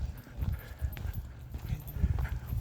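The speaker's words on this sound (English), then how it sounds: "Here comes another doggy." Dogs at a winter dog park in Toronto's High Park, with soft whimpers and snuffling close by among low rustling and outdoor rumble, no clear barking.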